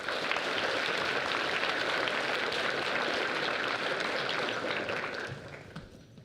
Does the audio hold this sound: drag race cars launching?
no